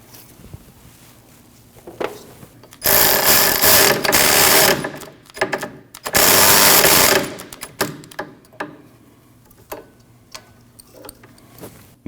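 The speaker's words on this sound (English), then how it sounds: "Install your 12mm bolt and tighten it." A ratchet tightens a 12mm bolt holding a rear ABS wheel speed sensor on a 2003-2008 Subaru Forester, with two loud sustained bursts of rapid clicking close by, then scattered lighter ticks and clinks.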